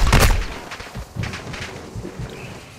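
Video game sniper gunfire starts with a loud, sharp report. Several duller thuds and impacts follow in an uneven rhythm, with no talk over them.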